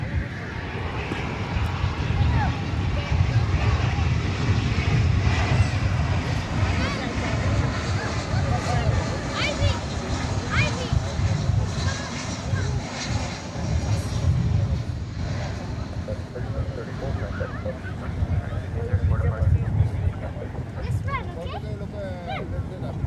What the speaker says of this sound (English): United Flight 1565 coming in from Denver. It's another Airbus A319.